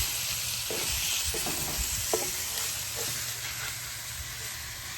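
Chorizo fries in its own released oil in a pan outdoors while being stirred, a close bright sizzle with occasional scraping clicks, steady throughout and alone.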